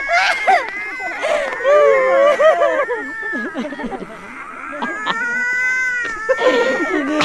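A human voice mimics cats caterwauling on a rooftop at night, giving long, wavering, whiny yowls that rise and fall continuously, loud and close.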